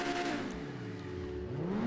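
A Pegassi Torero XO supercar, modeled on a Lamborghini Countach, revs in a video game, its engine note rising and falling through a sustained, close whine that dips and climbs again.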